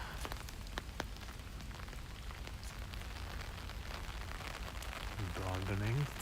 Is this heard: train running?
no